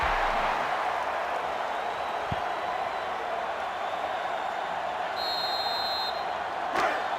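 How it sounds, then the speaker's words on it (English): A sellout stadium crowd at a college football video game, North Carolina State against Florida State, roars as a steady broad wash of noise, with faint whistle-like tones and a thud. "This sellout crowd is really making a difference now as these guys can't even call the play."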